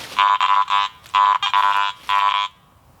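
Harsh, buzzy electronic tones from a metal detector reacting to iron nails at a rock cellar hole, sounding in several short choppy bursts, loud and close.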